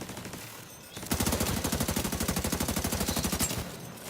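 Automatic turret deployed in The Division 2 firing a long, steady burst of rapid, evenly spaced shots, loud and close, with a brief quieter lull before and after.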